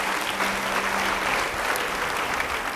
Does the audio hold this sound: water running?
no